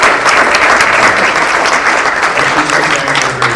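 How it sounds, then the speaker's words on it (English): Applause from a seated audience at a family reunion banquet, steady and fairly loud across the whole span, with faint crowd murmur underneath. "so a round of applause for that,"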